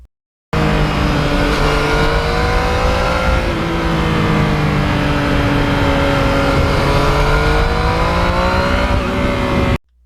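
A Yamaha MT-09 motorcycle with a continuous loud, close engine drone while riding, rising and falling gently in pitch as the rider rolls the throttle, with no talk.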